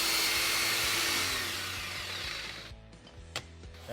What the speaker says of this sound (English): Okay, let's make the cut. We have the vacuum hooked up, so no mess.